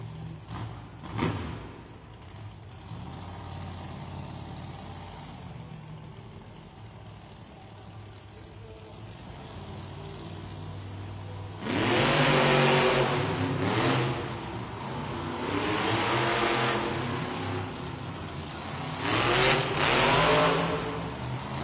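Monster Jam monster truck Velociraptor revving its engine in an arena, a faint rumble at first then loud bursts of revving from about twelve seconds on, with a crowd faintly underneath.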